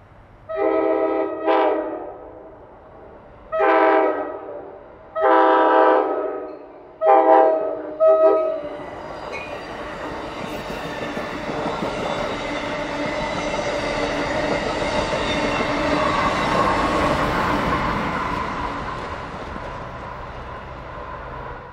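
An Amtrak ACS-64 electric passenger train on the Keystone Corridor sounds its horn in several short blasts, then rumbles past close by with rising, steady rolling noise and some wheel squeal.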